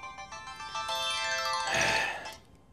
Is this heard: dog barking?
no